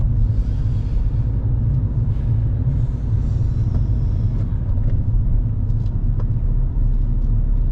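A car driving and turning on a London road during a driving lesson, heard from inside as a continuous low engine and road rumble with faint scattered clicks and bumps, no speech.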